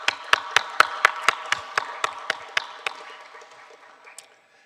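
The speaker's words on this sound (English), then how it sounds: "we should applaud them for the great work" Audience applause at an African brands awards event: a series of about a dozen sharp, evenly spaced hand claps that start loud and gradually fade out over a few seconds.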